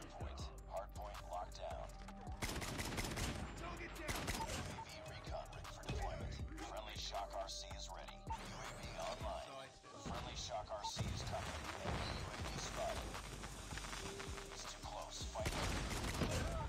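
SKS rifle fire in the mobile shooter game Call of Duty Mobile cracks out in repeated sharp shots mixed with other battlefield noise, loud and dense across the whole stretch.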